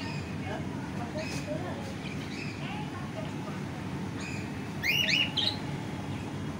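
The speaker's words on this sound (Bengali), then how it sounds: "প্রথমেই ঢুকে আমার যেটা নজর কাড়লো সেটা হলো এখানে রাখার পাখিগুলো আর পাখির আওয়াজগুলো।" Caged birds chirp inside an ice cream restaurant, with short tweets and calls scattered over a steady murmur of room noise and a brighter burst of chirping near the end, while people talk faintly.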